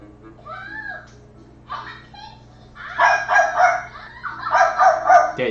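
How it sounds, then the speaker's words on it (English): A dog barks while playing, giving a few sharp yaps early on, then louder, clustered bursts of barking toward the end, with no talk over it. "Is that a dog? Yep, that's a dog."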